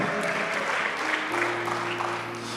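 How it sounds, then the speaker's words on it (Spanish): A church congregation applauds strongly after a Spanish-language sermon, a brief burst of clapping over sustained low musical tones, likely a keyboard, that swell in partway through. "Dele fuerte el aplauso y póngase de pie."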